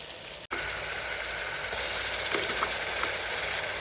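Onions sauté in hot oil with fennel, cardamom, cinnamon and cloves for a mushroom biryani, a loud steady sizzle that cuts out for a split second near the start and then carries on, with faint stirring clinks.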